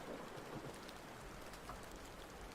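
Steady morning rain patters continuously on surfaces, soft and diffuse with no other sounds standing out.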